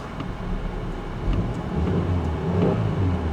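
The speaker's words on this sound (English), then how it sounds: "Now look what happens when I press the gas." Car engine revving as the throttle is pressed after a throttle body cleaning, a low steady rumble that swells louder partway through and holds, close by with no talking.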